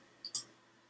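A computer mouse clicks on an indent button while website content is being edited, giving two quick, crisp, close clicks in rapid succession against near silence.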